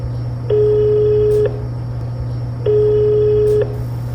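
Telephone call to the Ovruch eparchy office of the Ukrainian Orthodox Church (Moscow Patriarchate): two long, steady ringing tones about a second each, separated by a pause, over a constant low hum, with no voice.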